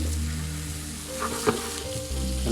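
A classic homemade burger patty sizzles in a pan just after being flipped, with a steady close frying hiss, a brief clatter from the turn and a low hum beneath, and no talk.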